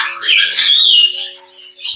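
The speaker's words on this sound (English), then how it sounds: "Sun conures are very noisy. Their loud calls help them communicate and get your attention." A sun conure pet parrot lets out a long, piercing squawk followed by a shorter shrill call, loud and near, over a faint steady hum.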